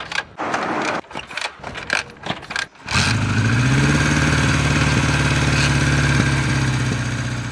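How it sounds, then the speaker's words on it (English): A Kawasaki Z1 motorcycle is kicked or cranked through a few sputtering attempts, then its engine catches and settles into a steady, loud idle that runs on without pause. "You can hear the pistons and smell the oil and the fuel."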